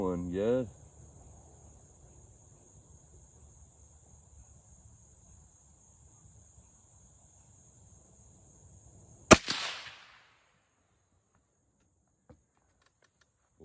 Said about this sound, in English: that little rifle is doing some shooting.